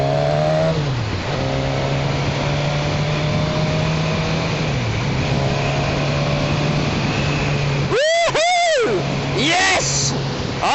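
A Suzuki Katana motorcycle engine drones steadily in traffic, its pitch rising and falling with throttle changes, with a few brief warbling high tones near the end.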